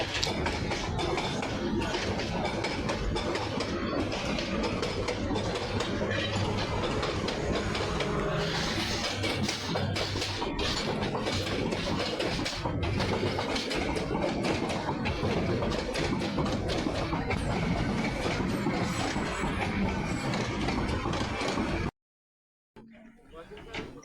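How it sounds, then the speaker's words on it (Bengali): A train rolls past on railway tracks with a sustained, loud rumbling clatter for about twenty seconds before cutting off abruptly, with voices faintly mixed in. "যাওয়ার পথে ট্রেন চলে আসে।"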